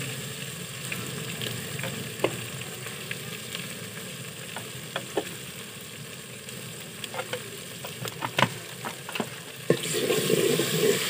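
Onions fry in a pan with green chili, tomato, garlic, coriander, red chili and spices, sizzling softly with scattered stirring clicks and scrapes, close and steady without talk.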